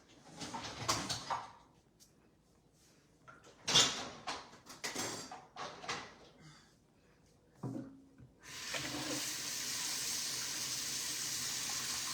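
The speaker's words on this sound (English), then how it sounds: "Quick little rinse McGinnis." Running tap water for a quick rinse in a sink, preceded by clattering splashes and handling noises, then the faucet opens into a steady close stream.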